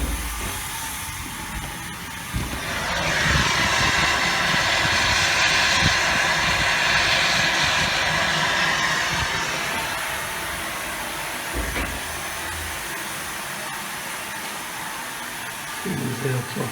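Steam from a steam engine boiler rushes out as it is vented at about 2.5 bar, a loud broad roar that swells in after a few seconds, holds, then eases off while someone talks quietly beneath.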